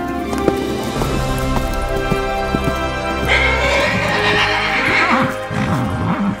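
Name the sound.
horses galloping and neighing, audio drama effect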